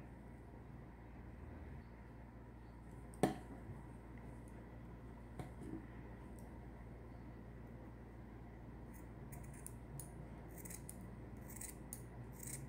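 Scissors cut the yarn hair of an amigurumi doll in a quiet room, with one crisp snip followed by a fainter one, then a run of small light clicks and rustles toward the end.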